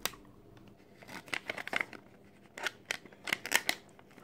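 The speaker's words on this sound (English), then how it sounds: "We'll move on to the heat shrink tubing. Now make sure you don't cut it too short." Scissors snip through heat shrink tubing for an 18650 battery pack, a series of short crisp cuts and crinkles close up, quiet and alone.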